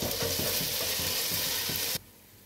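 Curd stirred into sizzling masala for seeraga samba chicken dum biryani: close, loud frying hiss with rhythmic scraping strokes of the spoon, cutting off abruptly after about two seconds.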